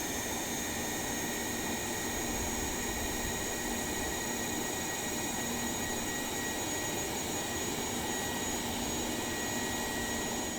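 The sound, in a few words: Boeing 707 jet engine starting up, from Microsoft Flight Simulator video game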